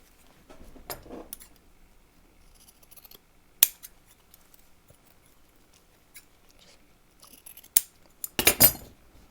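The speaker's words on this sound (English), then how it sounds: "I'm going to trim off the bottom." Scissors snip through fabric, trimming the bottom off a cross body bag being sewn: a few sharp, close cuts spaced apart, with a quick burst of snips near the end and quiet handling in between.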